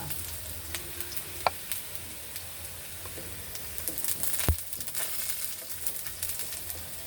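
Garlic sautéing in a pan for tripe and pata kare-kare, a steady soft sizzle with a few sharp clinks of a utensil and a brief louder scrape midway, no voices.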